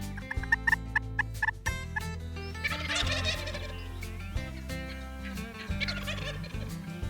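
Rio Grande wild turkeys gobbling during a Texas turkey hunt, several loud, close rattling gobbles in quick succession with further calls overlapping, no speech.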